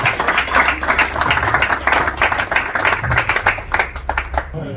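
An audience applauds the Leopards football team, a steady patter of many hands clapping at close range for several seconds, with faint voices mixed in.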